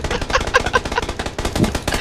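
Rapid automatic fire from a gun in the video game PUBG, a loud, steady burst of closely spaced shots rattling for about two seconds without a break.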